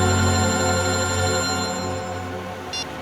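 A telephone rings with a sustained electronic bell tone, close and loud, fading slightly near the end with a short brighter chirp, no voices.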